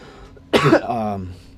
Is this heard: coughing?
yes